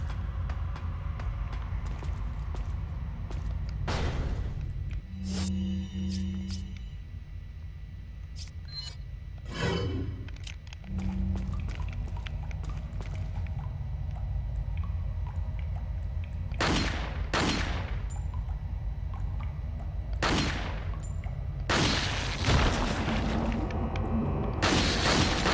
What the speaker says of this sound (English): Wonder what a pistol can do on them.